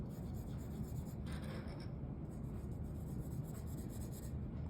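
A pencil shades a drawing with gentle strokes, a continuous soft scratchy rubbing of graphite on paper, close and steady with slight changes in pressure.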